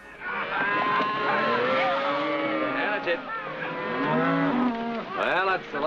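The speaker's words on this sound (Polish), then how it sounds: "To ostatnio krowa McCarrenów." Cattle moo in long, low calls, mixed with people talking over them.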